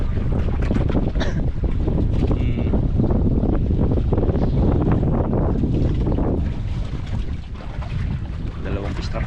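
Strong wind blowing over a small fishing boat at sea, roaring and buffeting the microphone with dense low rumble and water noise throughout, loud and close, with a faint voice partly buried underneath.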